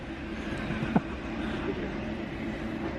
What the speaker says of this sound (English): this is our train coming in now